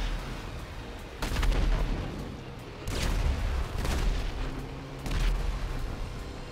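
Bursts of gunfire in GTA 5, several heavy booming volleys spaced a second or two apart with quieter gaps of background noise between them.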